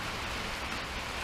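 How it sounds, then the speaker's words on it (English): Steady rain pours down on a cold 38-degree day, a dense continuous hiss of drops striking surfaces and pooling water, close and fairly loud with no voices. "I got all kinds of rain."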